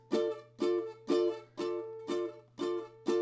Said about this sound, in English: We're going to release the pressure after we strum, which is going to mute the strings